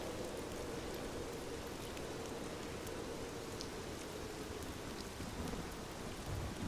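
Steady rain falls through the whole stretch, a dense even hiss of drops on surfaces with a soft low rumble beneath, constant and unbroken, with no voices.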